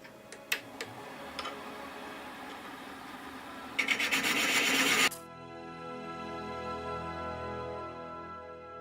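Skew chisel shaving a spinning piece of wood on a lathe, a steady rasping hiss that grows sharper for a moment, then stops and leaves the lathe's motor hum alone.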